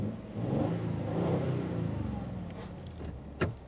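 A V6 Toyota Tundra fitted with a Magnaflow exhaust revs loudly up close, its deep exhaust rumble swelling and holding steady before a sharp throttle blip near the end.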